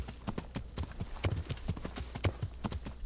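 Horse hooves clip-clop at a quick, steady trot on the ground in the medieval video game Kingdom Come: Deliverance, fairly close and continuous, with faint ambient noise beneath.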